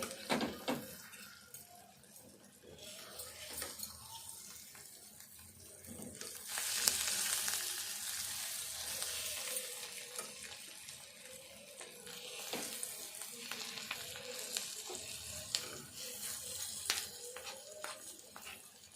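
Egg curry being stirred in a frying pan, a low simmering sizzle with intermittent spoon scrapes and clinks, swelling into a louder hiss midway, heard close without talk.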